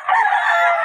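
A rooster crows once, loud and close, a single sustained call lasting under a second with no other sound around it.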